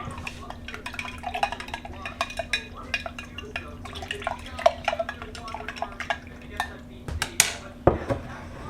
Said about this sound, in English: So then I added 2 tablespoons of sugar. Give it a good stir.